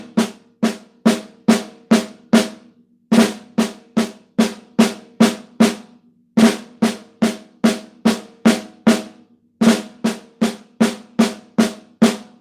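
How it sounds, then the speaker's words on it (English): Seven-note drum lick on a snare, played with flams and paradiddle sticking, in crisp, loud, close strokes grouped in repeating bursts of seven with short gaps between phrases. "you're actually going to do a small flam embellishment with the right hand to start"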